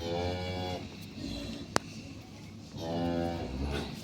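A Holstein Friesian dairy cow on a farm moos twice, near and fairly loud, with a sharp click between the two calls.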